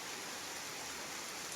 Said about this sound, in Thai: ฝนตกมื้อนี้เบิดมือ